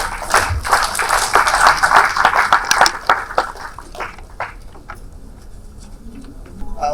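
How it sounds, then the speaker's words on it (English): An audience at a panel discussion in a conference hall in Tamil Nadu, India, claps together in a dense burst of applause that thins out into scattered individual claps before fading. "A round of applause for Mr. Sudhir Sitapati."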